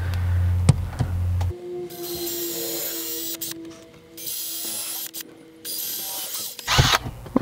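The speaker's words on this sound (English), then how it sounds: "We're gonna pre-drill three holes each." A power drill pre-drills holes in a board while an RV power inverter is installed in a travel trailer, its whine coming in several bursts of a few seconds each, separated by short pauses and clicks.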